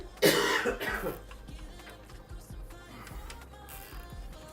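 A loud, harsh cough bursts out near the mic, followed by quieter rustling and a few softer throat sounds with no one talking.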